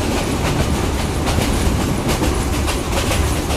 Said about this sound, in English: Yeah, I'm on the train.